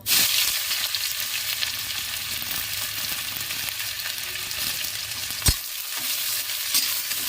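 Onions sizzle in a small amount of oil in a wok for egg chow mein, a steady close frying hiss with occasional stirring scrapes and one sharp clank, no voices.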